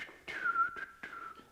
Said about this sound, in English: That was a really bad whistle